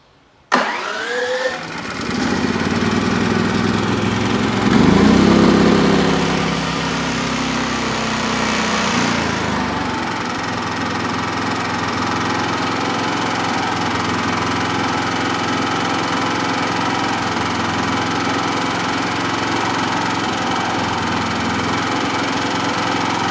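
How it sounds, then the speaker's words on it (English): A Duromax XP9000iH generator engine cranks and catches with a sharp start, revs briefly, then settles into a loud, steady idle that drones on close by for the rest of the stretch. "we're just gonna fire it up for a real short time"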